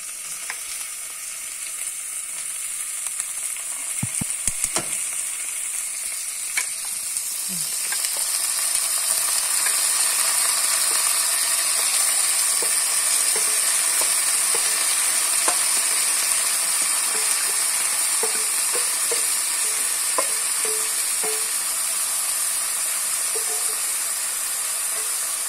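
Bitter gourd frying in a pan, giving a loud, steady sizzle that runs throughout, with occasional scrapes and clicks of stirring and no talking.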